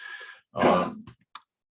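A dog coughs and hacks in the background: a faint wheeze, then one heavy rasping cough, then a short sharp catch, all within a couple of seconds with no talk.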